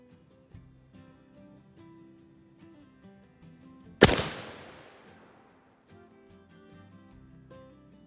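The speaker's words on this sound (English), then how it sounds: "I'm just gonna aim at that leaf just to get an idea of where it's actually shooting" An Armsport Kentuckian black powder rifle fires one loud outdoor shot, a sharp blast that rings and decays over about a second, with quiet ambient noise and faint movement before and after.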